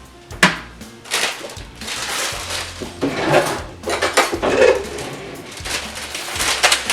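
A spatula scrapes cake batter from a bowl into a Bundt pan for a three-ingredient cake, making irregular close scrapes and light clinks and knocks. No one speaks.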